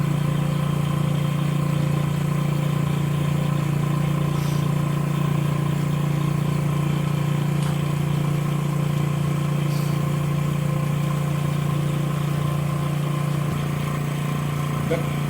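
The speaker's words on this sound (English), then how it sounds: "Currently, the system is running in constant power mode using this radiation technology arc lamp power supply." An OAI Hybralign 500 mask aligner runs with its arc lamp power supply in constant power mode, giving off a loud, unbroken low hum with faint ticks.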